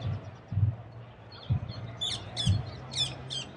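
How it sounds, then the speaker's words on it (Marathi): Several short high chirps from small birds, fairly close, in bursts over low background noise and soft thuds. "पक्ष्यांचा आवाज खरंच इथे खूप छान येतो"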